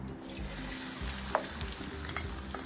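Ginger frying in about three tablespoons of hot oil for papaitan, a constant close crackling sizzle with a single sharp utensil tap partway through and soft scraping; no voices.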